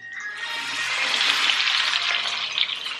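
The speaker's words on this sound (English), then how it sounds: "So you're gonna sear your tri-tip for 3 minutes each side" Tri-tip beef searing in a hot pan gives a steady, loud, close sizzle of hiss and crackle that swells slightly and holds throughout, with no talking.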